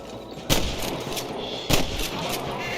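Gunfire in the Western video game Red Dead Redemption: three sharp, loud shots spaced roughly a second apart, each a sudden burst over a steady bed of background noise.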